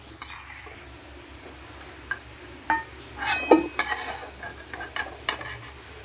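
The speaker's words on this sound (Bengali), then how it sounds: "আলুগুলো এবার তুলে নেব।" Fried potatoes lifted out of hot oil with a metal spoon, with scraping and clinking against the pan above a faint background sizzle, in irregular bursts.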